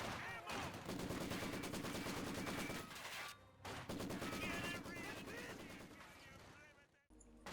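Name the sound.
squad gunfire in the video game Company of Heroes 2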